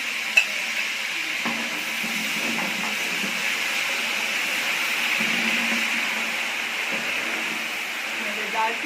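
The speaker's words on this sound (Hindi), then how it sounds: "अब असल प्रोसेस शुरू होगा मसाला भूनने का" Garlic, green chili and crushed garam masala frying in a large pot of masala for chicken biryani: a steady, moderate sizzle with light stirring scrapes and occasional utensil clinks throughout.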